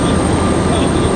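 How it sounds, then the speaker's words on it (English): A Black Hawk military helicopter passing overhead near Raleigh-Durham International Airport, a loud, steady broadband rotor and engine roar filling the whole moment without a break. "Oh wow, Blackhawk. There we go again with the helicopters."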